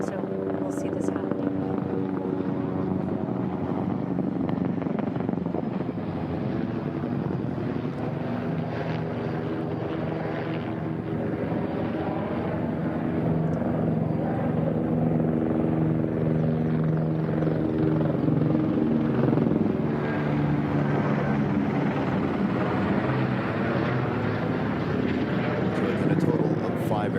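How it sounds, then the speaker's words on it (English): Police helicopters fly low over a deputy's funeral in missing man formation, their deep rotor drone thumping steadily and loudly throughout, rising and shifting in pitch as they pass overhead, with a voice talking over it. "Aircraft here flying over in the missing man formation, showing that obviously one peels away representing Deputy Henderson"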